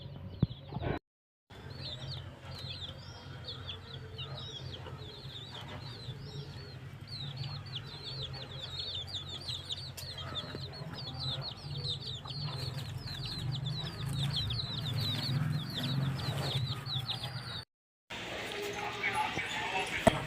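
Hens cluck among a brood of about six chicks on a small poultry farm, steady high cheeping and clucking throughout with a low background hum, briefly cut off twice.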